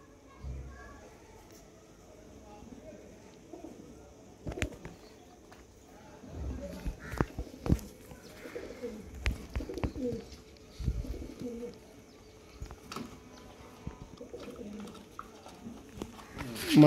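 Pigeons in a loft cooing softly and repeatedly in scattered bursts, with occasional wing flutters and shuffling nearby, while someone talks quietly over them.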